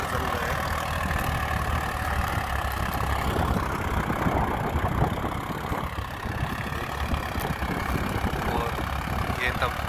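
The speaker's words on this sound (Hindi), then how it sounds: "बिल्कुल फुल के ट्रैक्टर चल रहा है।" A Euro 47 Supermaxx tractor engine drones steadily and loudly while pulling a 3-disc plough through a wheat field, a continuous close rumble with a faint voice underneath.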